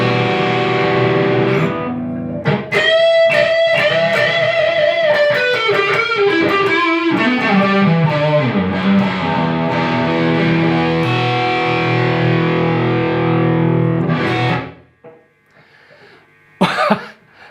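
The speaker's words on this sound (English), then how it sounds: "This guitar through that Laney IoT 60 sounds incredible in here." Les Paul Classic electric guitar played on its neck pickup through a Laney IoT 60 amp: a loud, warm, distorted tone with sustained chords and bending lines for about fourteen seconds, then decaying into near silence with a brief final noise.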